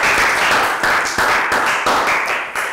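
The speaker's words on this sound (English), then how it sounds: "Round of applause for Pak Bung." A primary school class gives a short round of applause, a loud burst of clapping that pulses in quick waves, hands striking in several rising surges.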